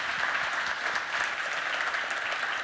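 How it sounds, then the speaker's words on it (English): Audience applause for a panel after a film screening Q&A, a full, steady wash of clapping from a crowd indoors lasting the whole moment without talk. "Round of applause for this wonderful panel here."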